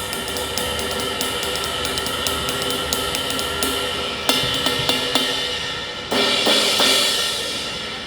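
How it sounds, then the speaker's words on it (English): A 20-inch Zildjian cymbal is struck repeatedly, shimmering wash building with sharper hits near the end, bright and ringing with a long metallic sustain. "the 20 sounds like this"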